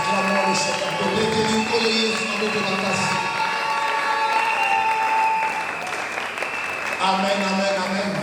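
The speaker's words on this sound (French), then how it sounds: "Nous acclamons le Seigneur." Congregation clapping in a church service acclaiming the Lord, sustained loud applause from a large crowd with scattered cheers, a voice speaking over it throughout.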